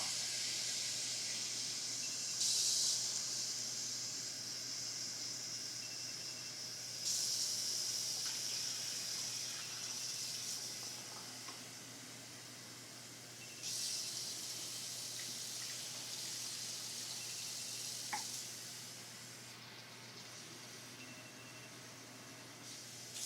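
Water runs from a tap to rinse out a film developing tank, a continuous hissing splash with several louder bursts as the flow shifts, steady and close with no talking.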